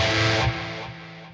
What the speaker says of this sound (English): Now, if I turn the reverb all the way up,